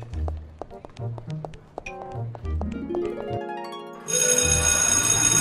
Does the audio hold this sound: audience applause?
no